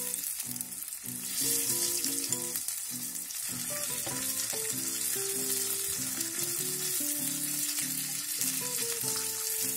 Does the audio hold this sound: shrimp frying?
yes